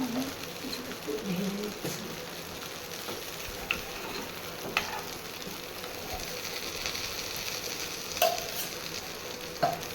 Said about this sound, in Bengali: একটু কালো জিরে আর একটু রাঁধুনি ফোড়ন দিয়ে দিলাম